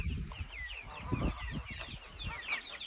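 Hens in a henhouse clucking in short, repeated bursts, with thin higher chirps from chicks above and light scuffling, all fairly faint and continuous.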